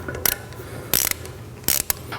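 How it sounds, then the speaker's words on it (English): Ratchet wrench cranking down a fitting on a Laguna C|Flux cyclone dust collector, several short bursts of rapid clicking spaced apart with quiet between, close and fairly loud. "Let's go ahead and tighten this down."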